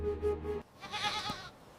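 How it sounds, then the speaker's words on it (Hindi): A cartoon goat in a Hindi children's story gives a short, nasal, wavering bleat, then a breathier, noisier cry. The calls are close and clear, with no talk over them. "रात में श्याम ने जादुई बकरी को एक साधारण बकरी से बदल दिया।"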